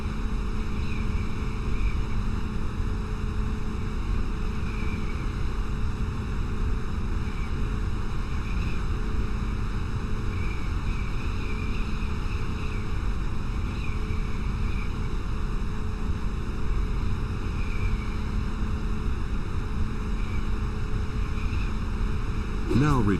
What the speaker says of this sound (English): Now climb a bit more and fly through the second gate.